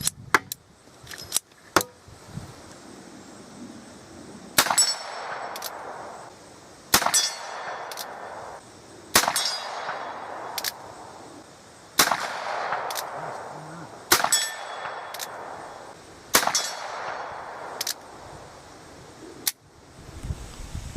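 A Colt Single Action Army revolver fires single shots at a steel target, about eight sharp cracks spaced a few seconds apart, each followed by a ringing metallic clang that trails off, loud and outdoors.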